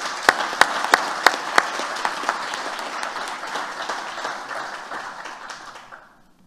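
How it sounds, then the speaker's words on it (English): An audience at a panel discussion breaks into a round of applause, with a few sharp, close claps at the start, then a sustained crowd clapping that gradually fades out. "join me in a round of applause to thank these people"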